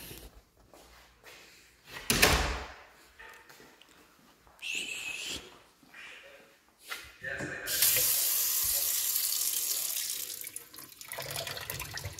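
After a few clunks and knocks, a tap is turned on and water gushes steadily into a sink, close and fairly loud.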